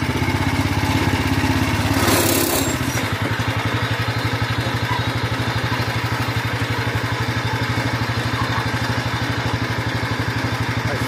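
Close engine noise from a 1970-72 Sears Compact 7 lawn tractor in second gear: a short louder burst at first, then an even, rapidly pulsing chug that runs steadily to the end, with no talking.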